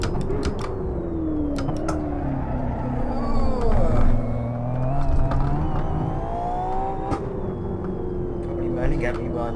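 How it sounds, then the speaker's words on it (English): A LaFerrari in the racing game Assetto Corsa, its engine droning and rising and falling in pitch as it rounds the track, with gear changes. Someone talks over the engine throughout. "I am really trying my best to guide this LaFerrari around this track without dying"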